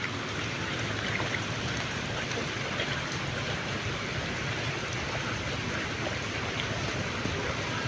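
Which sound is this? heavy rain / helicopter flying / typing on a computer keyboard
heavy rain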